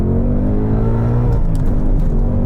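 A 2022 Ford Mustang Mach 1 launches hard in race mode, its engine a loud, steady low rumble that roars from start to finish with no pause.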